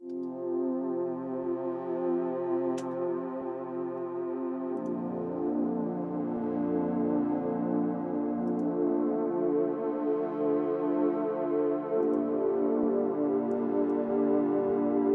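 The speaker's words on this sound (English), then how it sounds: "I'm using some synths right here." A sustained synthesizer pad plays slow, held chords that shift a few times, smooth and steady in loudness with nothing else heard.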